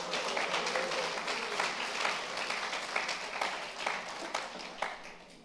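A Portuguese-speaking church congregation claps together during a service, the applause sounding somewhat distant and soft, with uneven swells of many hands and no clear talking.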